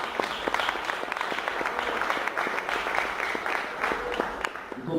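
A church congregation applauds during a worship service, a loud, continuous clatter of many hands with distinct individual claps throughout, sustained evenly for several seconds.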